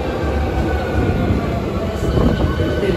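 An Osaka Metro Sakaisuji Line train rumbles into platform 1 at Nagahoribashi Station, a loud steady roar of wheels and motors echoing in the underground station.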